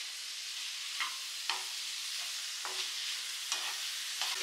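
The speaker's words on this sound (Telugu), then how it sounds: "ఈ ప్రాన్ ముక్కలు యాడ్ చేసి 1 నిమిషం కొంచెం వేగనివ్వాలి" Prawns with broccoli fry quietly in a pan under a steady faint hiss. Six or seven distinct stirring scrapes are spaced through it, and no voices are heard.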